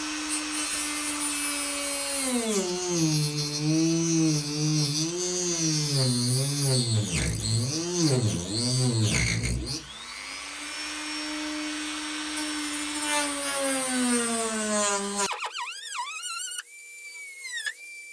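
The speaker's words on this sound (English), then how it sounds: "I'll show you the technique I'm using with the Dremel and that cutting disc." A Dremel rotary tool with a cutting disc slices gaps into the body panels of a Subaru-powered Covin Porsche 911 replica, giving a loud, continuous high whine whose pitch wavers and dips under load before cutting off abruptly near the end.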